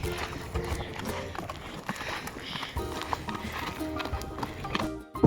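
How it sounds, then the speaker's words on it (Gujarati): A mare's hooves clip-clop at a steady walking pace, close by, with brief snorting and faint background voices. "ક્રિશભાઈ ઘોડી હેલાવા કરે છે પણ ઘોડી આડી જ જાય છે"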